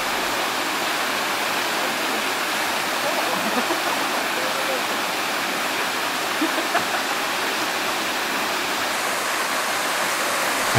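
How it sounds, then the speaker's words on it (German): Steady rushing water from a waterfall and fountain beside a large lake in a tropical garden near Funchal, Madeira, a dense broadband wash that holds at an even level throughout with faint background sounds. "Ein Wasserfall, Springbrunnen und etliche Skulpturen schmücken dieses Ensemble."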